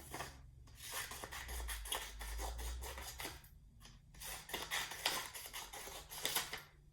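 Scissors snipping through paper along drawn lines, a run of crisp, repeated rasping cuts with short pauses between strokes, close and fairly quiet with no voices.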